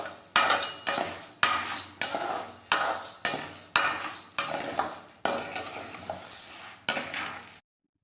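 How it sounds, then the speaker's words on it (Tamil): Urad dal dry-roasting in a pan for homemade idli podi, stirred in steady strokes about every half second, each scrape bringing a dry rattling rush of lentils against the metal, close and clear with no voices. "இதே போல் கொஞ்சம் சிவக்க வறுக்கணும்."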